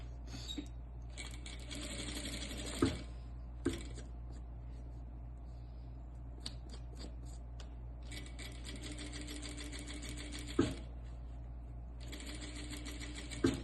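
Sewing machine stitching a seam on a cloth diaper, running in bursts of rapid needle clatter with short pauses between runs and occasional sharp clicks, close and moderately quiet.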